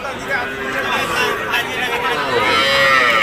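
Cattle moo among the crowd at a cow market in Nilphamari, where many small local-breed calves are being sold. The lowing rises over dense, steady crowd babble and talk.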